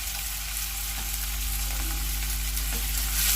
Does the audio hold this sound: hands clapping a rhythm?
no